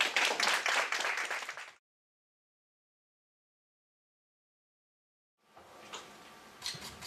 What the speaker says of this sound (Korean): 박수를 모셔주십시오